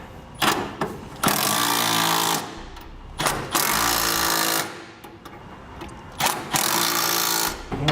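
A power tool snugs down three bolts on a B&W fifth-wheel trailer hitch installed on a 2004 Chevrolet Silverado, with loud close impact hammering in several sustained bursts separated by short pauses and no talk.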